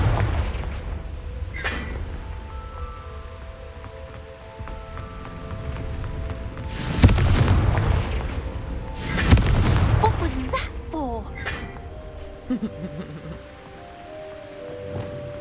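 Fiery Confringo spell blasts in Hogwarts Legacy: two loud booming explosions land a few seconds apart over steady game ambience, with a voice talking nearby.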